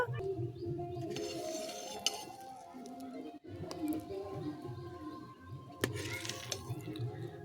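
A metal pot of palm-fruit payesh being lifted off a kitchen stove, with soft clinks and scrapes of cookware over a steady low hum, a couple of sharper knocks standing out.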